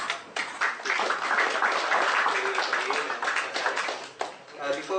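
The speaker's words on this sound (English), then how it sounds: "Please join me in applauding the speakers." An audience at a panel discussion on Southeast Asian regional developments applauds the speakers, with steady continuous clapping from a crowd that tapers briefly near the end.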